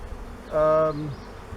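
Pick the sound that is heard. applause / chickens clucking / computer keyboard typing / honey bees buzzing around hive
honey bees buzzing around hive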